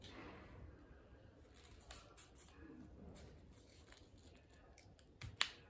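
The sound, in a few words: scissors cutting paper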